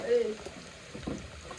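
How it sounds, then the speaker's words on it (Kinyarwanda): Chopped onions fry in a pan with a steady, close sizzle, and a brief voice is heard near the start. "Gukaranga igitunguru."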